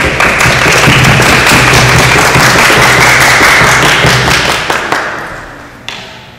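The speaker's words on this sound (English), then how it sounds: "So just a round of applause and welcome" A crowd at a debate tournament claps in a loud, dense patter of close hand claps and thuds that gradually thins and fades toward the end, with a few last scattered claps.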